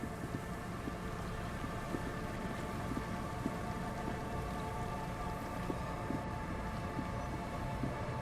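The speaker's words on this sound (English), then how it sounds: "Is the rain getting picked up in my mic?" Rain patters continuously, picked up through a streamer's microphone as a steady dense hiss with faint ticks and a low hum underneath, uniform throughout with no talking.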